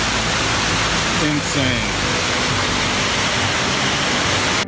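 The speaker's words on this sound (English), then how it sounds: "This is the water that's coming out of our property right now." Rainwater rushes out of a rural property in California, a loud, continuous broadband roar of flowing water close by, with a brief spoken exclamation over it.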